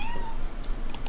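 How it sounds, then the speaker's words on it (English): A house cat lets out a single drawn-out meow that trails off, fairly faint behind a steady background hiss and a few soft clicks. "That was my cat, in case you heard that."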